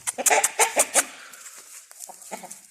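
An Arab chicken clucks in a quick burst of sharp calls, followed by a few softer, scattered clucks nearby.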